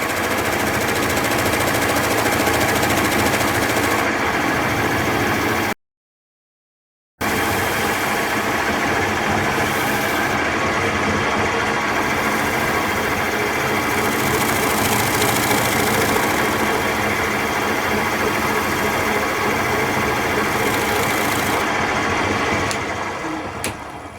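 Redwood burl platter spinning on a woodturning lathe while being polished with fine steel wool, a steady continuous whirring drone with broadband friction hiss, loud and unbroken apart from one short gap.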